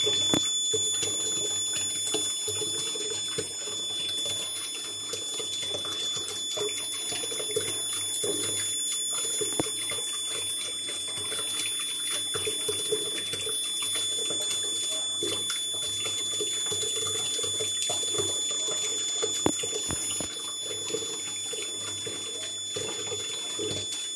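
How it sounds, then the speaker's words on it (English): A small water pump switches on in an Arduino fire detection and alert system, giving a steady, continuous watery rushing hum that runs unbroken and fairly quiet, with no talking. "Water pump on"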